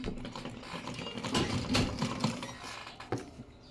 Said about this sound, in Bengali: প্রথমে সেলাইটা দিয়ে এই গলাটা সামনে উল্টায় নিয়ে আসি